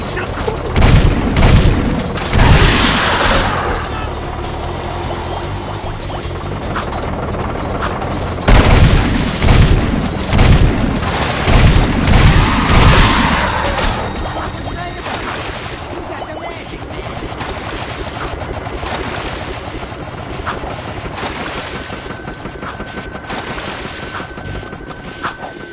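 Rapid gunfire and heavy explosions in the Jak 2 video game, loud bursts of shots and booms in two dense volleys separated by quieter rumbling stretches, with voices shouting over the action.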